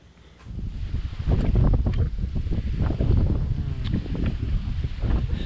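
Wind buffets a GoPro microphone outdoors at a resort in Belize, a loud, continuous low rumble with gusty surges that fills the whole stretch.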